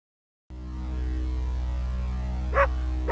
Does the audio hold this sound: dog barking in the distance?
yes